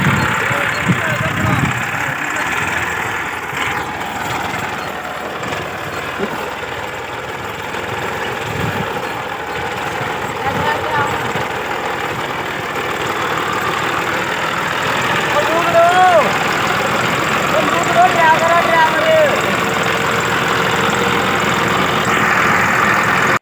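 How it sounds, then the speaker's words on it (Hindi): A tractor engine idles steadily for the whole stretch, a continuous low rumble with mid-range drone that stays near and fairly loud, with a few brief voices breaking in over it. "कसम से ट्रैक्टर चलान दी तो चास ही आ गई है"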